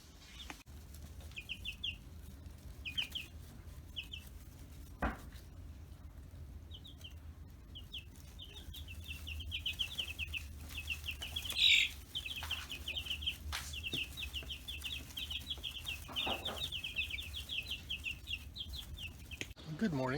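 Repeated high chirping peeps from chicks in a brooder in bursts, with occasional soft clucks and faint rustling, fairly close over a low steady background hum.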